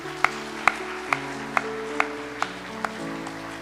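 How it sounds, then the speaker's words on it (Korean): A church congregation at a New Year's Eve service claps in a slow, steady rhythm, about eight evenly spaced claps, over sustained keyboard tones at moderate loudness. "하나님께 한 번 더 영광의 박수를 돌리겠습니다"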